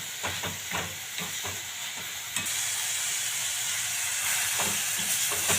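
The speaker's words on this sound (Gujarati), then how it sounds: "હવે આને આપણે ધીમે ધીમે મિક્સ કરતા રહેશું" Fenugreek leaves stirred into spinach kadhi in a pan, a steady bubbling simmer and hiss with soft intermittent scraping strokes of a spoon, close and fairly even throughout.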